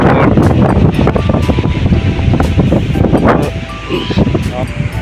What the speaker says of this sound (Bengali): প্রচণ্ড হাওয়া চলছে